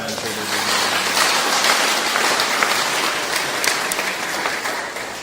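Dense audience applause at a leadership summit fills the whole stretch at steady loudness, a continuous rain-like wash of many hands clapping together.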